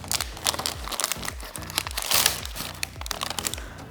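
Snack packaging of Cheetos or Oreos crinkles and crackles as it is unwrapped, a dense run of close, irregular plastic rustling with brief louder crunches and no talk.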